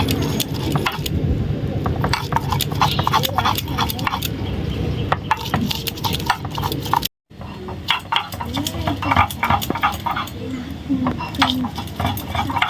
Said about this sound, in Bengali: আর কিছুটা পেঁয়াজ আমি বেটে নেব